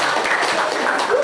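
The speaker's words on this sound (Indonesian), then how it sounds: "Luar biasa. Tepuk tangan." Audience applause at a Ponorogo university teacher-training session, a short steady wash of clapping held at even loudness throughout with no clear breaks.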